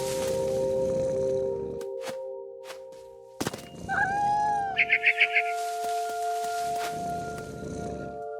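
In What Remains of Edith Finch, a cat gives one rising meow after a heavy thunk, followed by a quick series of high bird chirps over a steady ambient drone.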